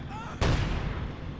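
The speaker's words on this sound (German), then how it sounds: "Oder ist ein Mörser." Mortar fire in the World War II strategy game Company of Heroes 2, one sudden heavy boom with a rumbling decay, loud and close, after a brief faint whistle.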